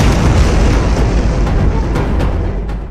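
A suicide bomb explodes in an Ankara street, a loud, sustained booming roar that rumbles heavily and slowly fades over a few seconds, with no voices.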